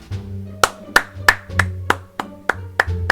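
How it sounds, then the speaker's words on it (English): One person clapping a slow, uneven series of about nine sharp claps close to the microphone, with a low background hum continuing underneath. "round of applause for that"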